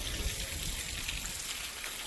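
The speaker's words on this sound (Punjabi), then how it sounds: "ਮੀਂਹ ਬੜਾ ਜ਼ੋਰਾ ਸ਼ੋਰਾ ਨਾਲ ਪੈ ਰਿਹਾ ਦੇਖੋ" Steady dense rain hisses and patters on surfaces, a continuous wash of drops close by with no voices.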